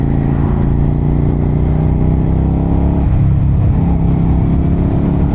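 A 2023 Suzuki SV650 motorcycle engine runs loud and close, with a strong steady throttle drone that dips and shifts in pitch partway through as the revs change.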